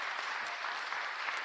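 Audience applause at a city council committee meeting on public works and gang reduction: a steady, dense wash of clapping that holds evenly for its whole length at moderate volume.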